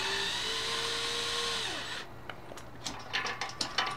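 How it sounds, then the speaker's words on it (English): A power screwdriver drives a screw into a Kozyard outdoor patio recliner during assembly, a steady whirring motor for about two seconds that stops, followed by a few sharp clicks and taps nearby. "Use a screwdriver."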